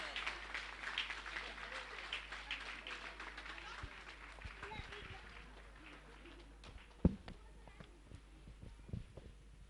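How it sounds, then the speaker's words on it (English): Scattered, fairly faint clapping from a school annual day audience honouring parents, spread across the clip with a few sharper claps and murmuring voices underneath. "Please give a huge round of applause for them as well."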